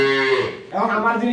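A dairy cow or calf moos at a farm with improved-breed milking cows, one drawn-out, loud and close call lasting about a second, with no talk over it.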